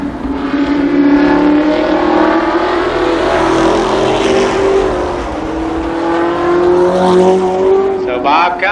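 Winged sprint cars race around Columbus Motor Speedway, a continuous loud engine roar rising and falling as the pack circles, with a steady pitch and some passing swells, under a commentator's voice.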